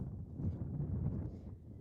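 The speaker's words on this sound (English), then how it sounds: "It's getting a little windy here, Jack." Wind gusts buffet the microphone at an outdoor varsity girls' softball game, a steady low rumbling roar that swells and eases over a couple of seconds with no voices over it.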